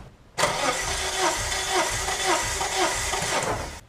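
A car engine cranks over during a compression test with a rapid, rhythmic starter churn, loud and close, pulsing steadily for several seconds without catching.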